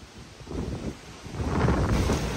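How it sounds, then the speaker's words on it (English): Strong typhoon wind gusting around a house during Super Typhoon Mawar on Guam, a broad roaring rush that buffets the microphone and swells louder toward the end, with no talking. "The wind changed direction,"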